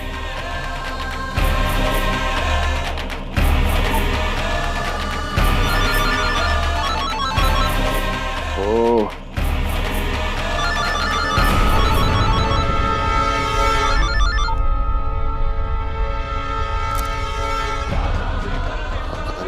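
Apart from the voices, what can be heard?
telephone ringing repeatedly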